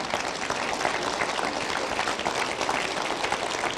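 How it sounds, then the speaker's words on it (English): Applause from a school concert audience for students in new concert ties, vests and dresses, a steady, moderately loud wash of clapping from a full room sustained without pause. "let's give them a round of applause for looking good tonight"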